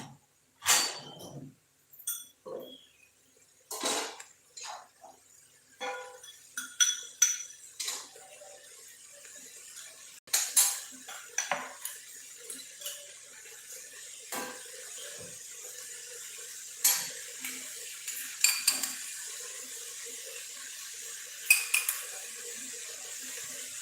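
Spoon stirring and scraping methi matar malai in a metal pot, a series of sharp clinks and scrapes at an irregular rhythm, close and moderately loud against a quiet background, with no talking.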